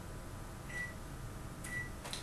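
A low steady microwave hum runs throughout, with two short electronic beeps and a faint click near the end.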